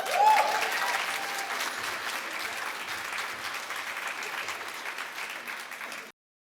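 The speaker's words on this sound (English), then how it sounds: "come on, clap it up, clap it up." An event audience breaks into loud applause with a few cheers, sustained clapping that holds steady before cutting off abruptly.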